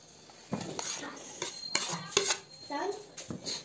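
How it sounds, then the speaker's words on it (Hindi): A spoon clinks and scrapes around a bowl while mixing cut fruit with salt, chaat masala and black pepper for fruit chaat, making quick, busy taps close by with a voice faintly in the background. "अब इन सब को हम लोगों ने मिक्स करना है"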